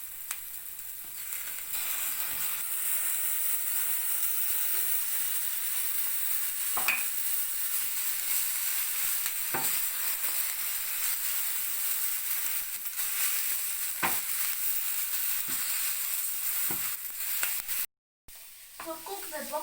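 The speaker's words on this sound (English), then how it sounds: "then add your bok choy." Bok choy and onions fry in a pan with a steady, loud, continuous sizzle and occasional scraping stirs, with a brief dropout near the end and no talking.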